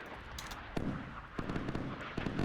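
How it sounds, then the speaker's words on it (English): Distant gunfire sounds in the naval combat game Sea Power as a few sharp cracks over a dense, rumbling battle backdrop, fairly faint overall. "Gunfire."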